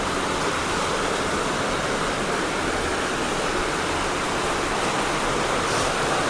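Heavy rain floods a veranda with water, a loud, steady rushing wash of pouring and splashing that stays constant throughout, with no voices.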